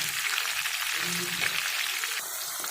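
Stuffed karela bitter gourds filled with qeema mince fry steadily in a pan, a continuous close crackling sizzle with a brief clink near the end, no talking.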